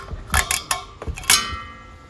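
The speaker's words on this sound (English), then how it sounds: "Go ahead and remove this blue plastic cap." A blue plastic cap is pulled off the valve of a new exchange propane tank for a grill, giving a quick run of close, crisp plastic clicks and creaks in about two seconds.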